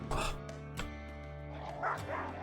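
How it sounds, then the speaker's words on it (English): Man-hunting dogs in the Rimworld video game letting out a few quick barks and yips, spaced irregularly, moderately close but fairly quiet. "The man-hunting dogs are not really a problem for me here."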